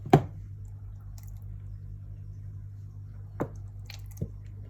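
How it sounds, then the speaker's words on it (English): Tomato sauce squeezed from a bottle into a plastic tub while making pink pakora sauce: one wet squelch at the start, then two quieter squirts near the end over a low steady hum. "I'm then going to put in 4 tablespoons of tomato sauce."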